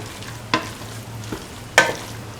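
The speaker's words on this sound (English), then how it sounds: "Mix the rice thoroughly" Cauliflower, potato and coconut milk rice being stirred in a pan: three brief scraping strokes, the last the loudest, over a low steady hum.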